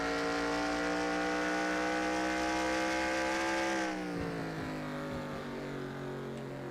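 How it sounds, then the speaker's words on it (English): A video game race car engine drones at steady high revs on the Milwaukee Mile track, then drops in pitch as it slows, loud and continuous with a rushing, gritty texture. "you can actually hear the car hitting the track from the original model"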